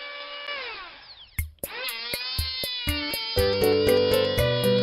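An electric planer works on a wooden fence post, its motor whine winding down and spinning back up, with sharp knocks and a rising, steady harmonic hum close by and no speech.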